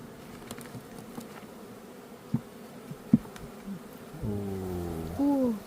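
Honeybees from a weak colony during a first hive inspection by a hobby beekeeper. Quiet background hum with a few soft taps, then a single bee buzzes close for about a second, its pitch wavering.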